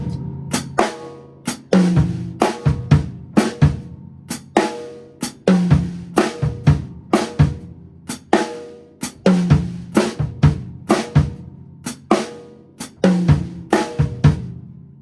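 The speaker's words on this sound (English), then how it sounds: "the drum parts sound like this, both measures" A funky fusion mambo drum groove, played alone up close: syncopated kick, snare and tom hits land in a tight repeating two-bar pattern with sharp accents and steady forward drive.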